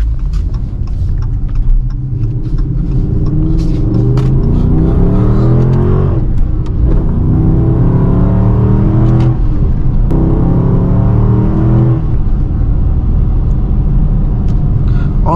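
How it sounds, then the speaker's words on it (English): Dodge Charger R/T V8 fitted with a Hellcat airbox intake, revving hard with a deep, continuous induction roar that rises and falls through several pulls, loud and close with no talking. "I'm glad I installed the Hellcat airbox because it makes the induction sound better"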